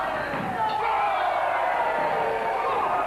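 Crowd at an FWA Frontier Wrestling event cheering and roaring in a steady wash, with thuds from the ring and a commentator talking over it.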